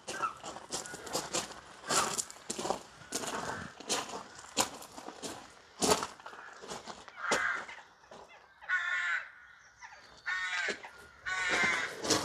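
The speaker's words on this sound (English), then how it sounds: "the crows are always really loud when we visit" Several crows caw loudly and repeatedly, harsh calls overlapping close by outdoors in a cemetery with chest tombs.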